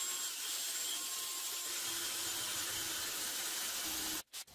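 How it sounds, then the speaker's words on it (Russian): A continuous high whine of a drill boring into metal, steady and close, cutting off abruptly at the end. "Пытаемся сверлить."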